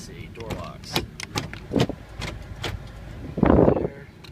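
Power door locks on a 2003 Hummer H2 actuate in a series of short close mechanical clunks and clicks inside the cabin, with a louder thump near the end.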